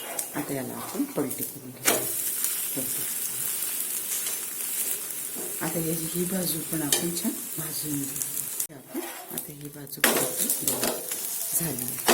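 Moong dal chilla cooks in a hot pan, giving a steady close sizzle with occasional scraping and stirring clatter while someone talks throughout.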